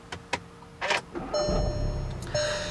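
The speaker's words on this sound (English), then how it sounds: "push the button to start the engine." A 2015 Volkswagen GTI with a 2-liter turbocharged direct-injection engine is started by push button. A few clicks and a starter whir lead into the engine catching and settling into a steady idle with a faint electronic tone, close by.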